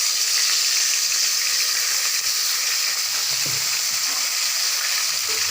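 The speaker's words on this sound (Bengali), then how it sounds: "এবারে ভাজবো বৈরালি মাছ। তো বৈরালি মাছটা কড়াইতে দিয়ে দিব।" Boirali fish fry in oil in a wok, a dense, even hiss of sizzling that carries on loud and close with no break and no talk.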